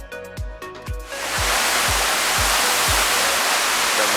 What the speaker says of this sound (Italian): Siamo venuti alle cascate.